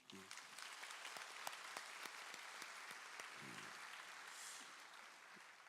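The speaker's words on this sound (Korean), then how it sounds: "아버지께 함께 박수를 드립니다." A church congregation applauds the parents during a Korean Parents' Sunday service, a full room of steady clapping lasting several seconds, with brief voices briefly audible underneath.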